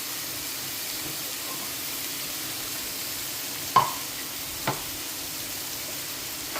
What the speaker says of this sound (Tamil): இஞ்சி இது எல்லாத்தையும் போட்டு ஒரு கண்ணாடி பதம் வர வரைக்கும் இதை வதக்கணும்